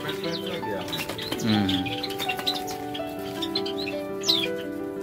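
Java sparrows chirp and tweet in scattered bursts over a steady hum on a farm, with a low murmur of voices underneath.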